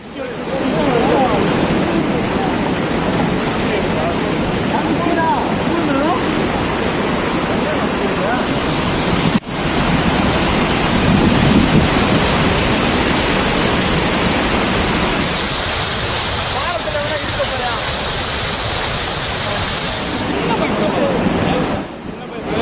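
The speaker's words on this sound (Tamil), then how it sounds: "ஆர்ப்பரித்து கொட்டிய அருவியில் திடீரென்று வெள்ளப்பெருக்கு ஏற்பட்டதால்" Chinnasuruli falls in the Theni hills in sudden flood after days of heavy rain, a loud, dense, unbroken roar of rushing water filling the whole stretch, with a brief hiss of wind noise partway through.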